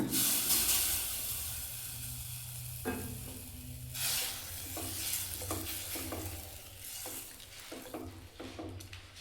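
Ingredients for a palak and hulichikka soppu sambar go into a pressure cooker, giving a close hissing sizzle with scraping stirs and a few clanks.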